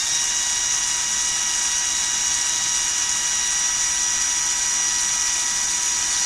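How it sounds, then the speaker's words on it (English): A steady high-pitched mechanical whine, like a drill spinning a small generator, holds constant and fairly loud throughout with no pauses. "I will connect this to the drill and then try to rotate it too fast."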